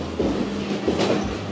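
A train pulls out of a station in Sri Lanka, its loud rumble carrying periodic rhythmic clacks and bursts of wheel noise as the cars roll past close by.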